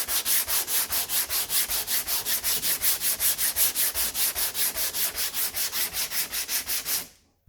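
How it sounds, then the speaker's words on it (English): A round durablock with 80 grit paper sands the steel body of a '55 Pontiac hot rod, making a close, rhythmic rasp of steady back-and-forth strokes that stops abruptly at the end. "So again, 80 grit. We're just taking material off"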